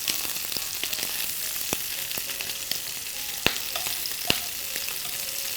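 Shrimp fry in a pan with a steady, close sizzle and occasional sharp pops and crackles as they are turned, continuous and moderately loud with no voices.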